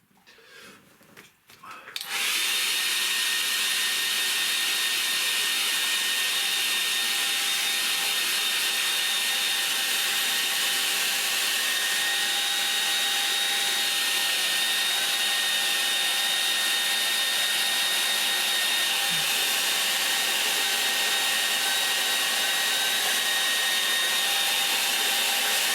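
A hair dryer switches on after a brief rustle and blows continuously, with a loud, steady, close airy roar that lasts to the end.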